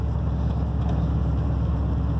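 A dually pickup truck with a new exhaust gives a deep, steady engine rumble with a low exhaust drone, idling or cruising evenly without breaks.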